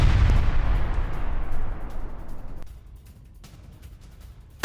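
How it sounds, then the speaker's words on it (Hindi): A heavy explosion from a Russian missile, bomb or drone strike on Ukraine booms in a long, rumbling roar that slowly decays into distant rolling noise, with a fresh thud at the very end. "मिसाइल, बॉम्ब और ड्रोन से एक साथ हमले किए गए।"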